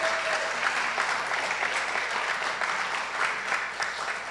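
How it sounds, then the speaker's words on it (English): Steady applause from an audience at a youth church service, sustained and even throughout with no break, filling the room without any talk over it. "Please give a round of applause to Sokuk and Andrea once again."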